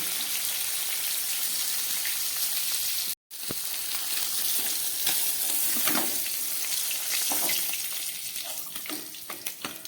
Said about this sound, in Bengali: মাছগুলো খুব ভালো করে ভেজে নিলাম।